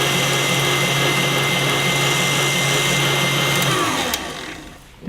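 A loud, steady whir from an electric hand mixer running at full speed through thick cheesecake batter, droning evenly for several seconds before winding down and fading near the end.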